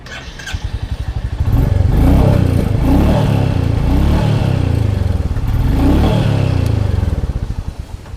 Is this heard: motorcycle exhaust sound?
yes